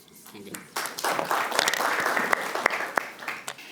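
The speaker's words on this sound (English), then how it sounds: "let us once again show our appreciation to both presenters with a big round of applause for their excellent work" Applause rises from the audience at a national student research forum at St. Mary's University, honouring two presenters, with dense clapping filling the hall and scattered louder claps standing out.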